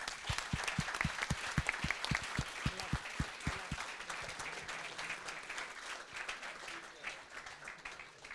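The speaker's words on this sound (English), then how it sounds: "One more big applause." Audience applause for finalists at a Balkan sommelier competition, beginning with sharp, rhythmic group clapping that gradually loosens into a steady wash of scattered applause, with some voices underneath.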